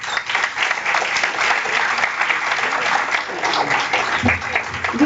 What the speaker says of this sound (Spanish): Damos un aplauso al doctor.